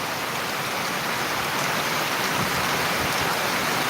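Dense, loud monsoon downpour in Buldhana, Maharashtra, with an even, unbroken roar of rain hitting surfaces, no voices present.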